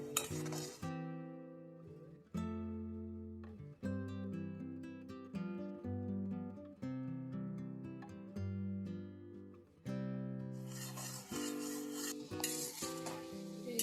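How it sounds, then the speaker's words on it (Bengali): Wheat flour sweets being stirred in a pan, with a metal spoon clinking and scraping against the pan in a steady rhythm of repeated knocks, clear and fairly close over a faint sizzle. "এবার আমি এটাকে অনবরত নাড়তে থাকবো।"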